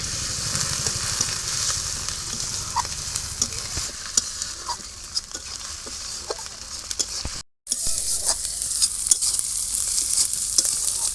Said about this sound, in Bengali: প্রথমে পেঁয়াজ কুচিটা দিয়ে দেবো।